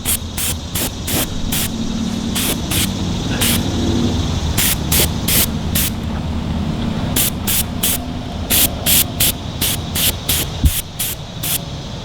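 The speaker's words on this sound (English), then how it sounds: "It's atomizing the paint fairly well, coming out a little heavier than I'd like" A quick-change airbrush kit atomizes foam spray paint in rapid short bursts of bright hiss, some clustered in quick runs, close by over a steady background of air compressor noise.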